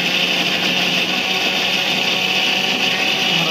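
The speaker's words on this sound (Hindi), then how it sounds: "ग्राइंडर बटन टा को एबे आमे ऑन कर देबा" Electric kitchen grinder blending ginger, garlic, chilli and tomato into a paste, a loud constant high whirring motor roar that stays steady throughout, close up with no talking.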